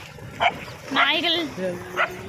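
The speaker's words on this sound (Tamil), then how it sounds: "நாய்கள் ஜாக்கிரதை." Dogs bark near a village irrigation canal beside a river: a few short, sharp bursts spaced apart, fairly close, with a voice murmuring alongside.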